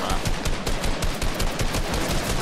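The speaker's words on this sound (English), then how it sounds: "Oh, gunshots?" Rapid automatic gunfire in the Fortnite video game rattles out in quick, dense bursts, loud and close, with no talking over it.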